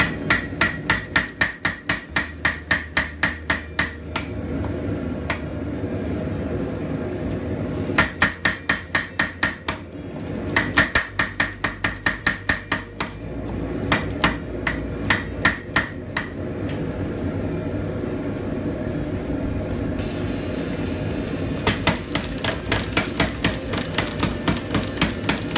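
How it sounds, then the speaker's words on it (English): A power hammer forges a knife blade, rapid heavy blows coming in bursts of steady pounding separated by short lulls, loud and close with a mechanical hum underneath and no talking. "Then I go over here to the power hammer."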